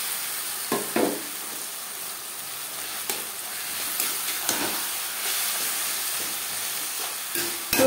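Mutton fat sizzles and hisses in a hot pan with spiced paste for yellow peas curry, a steady frying hiss broken by occasional scraping clicks as it is stirred.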